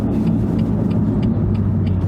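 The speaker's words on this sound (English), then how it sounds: "the intakes, like, they seem really loud for as little as we've been driving already" A manual BMW M2 Competition drones loudly from inside the cabin, a steady low engine and intake rumble with faint regular ticking over it, and no talk.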